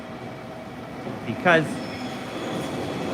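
Train in Japan rumbling along with a steady low hum, then a brief rising squeal or screech of wheels midway, as a voice speaks briefly.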